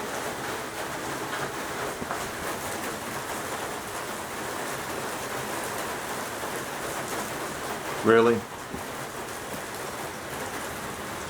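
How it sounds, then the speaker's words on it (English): Steady rain falls outdoors with a broad, even hiss of drops on surfaces throughout, and a person briefly speaks near the end. "It's raining."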